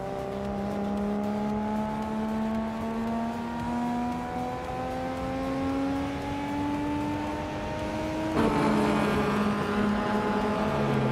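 Race car engines in a racing video game drone and rise steadily in pitch as they accelerate, with a sudden shift as another car cuts in near the end, continuous and fairly loud with no talk.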